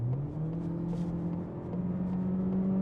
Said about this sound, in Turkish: Şimdi kick down yapacağım önüm biraz daha müsait olduğunda bakalım.